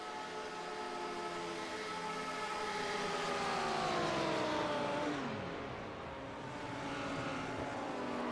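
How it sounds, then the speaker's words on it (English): A race car engine in a racing video game at Daytona holds a high drone, then its pitch bends sharply downward in a clutch dump before steadying again, loud and continuous with no voices. "it definitely sounded like a clutch dump"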